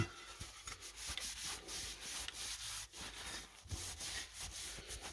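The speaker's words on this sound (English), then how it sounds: "maybe I should give this a little scrub too while I'm at it." Scrubbing the flaking, slightly rusty paint of a paper tray plate from a 105-year-old Remington Junior typewriter with Simple Green cleaner, giving steady, close brushing strokes in a quick repeated rhythm with no talking.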